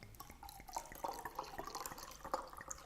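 Water poured from a tap into a glass of sweet juice to dilute it, a steady trickling splash with small dripping plinks, close and continuous with no talking.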